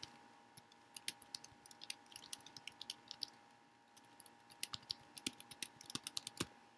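Rapid, irregular clicks from a computer keyboard being typed on up close, quiet keystrokes with a few brief pauses against a faint steady hum.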